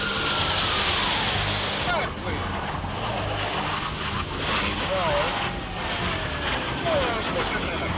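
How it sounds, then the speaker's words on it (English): F-18 jet fighters roar past at an air show, two pairs crossing from different directions in a loud, steady broadband rush with rising and falling engine tones, while a voice talks over it. "two pairs of aircraft crossing the viewing area from different directions"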